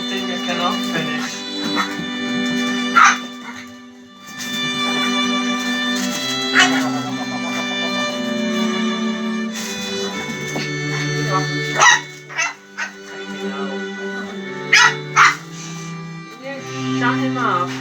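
A dog barks repeatedly in sharp, loud bursts indoors while people talk and laugh around it, the barking recurring throughout and growing more frequent toward the end.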